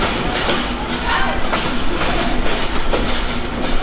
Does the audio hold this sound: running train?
yes